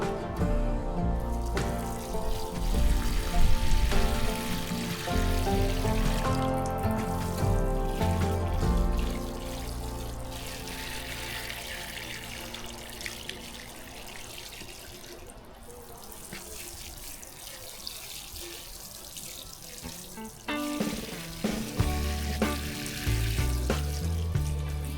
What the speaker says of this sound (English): always, always, always, always water in your plants